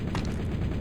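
Heavy tank auto cannon firing in the video game Factorio: a dense, rapid run of booming shots blending into a continuous loud rumble with no gaps.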